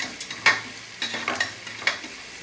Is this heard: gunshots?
no